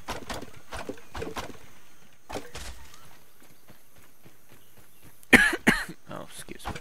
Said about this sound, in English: Cough came out of nowhere.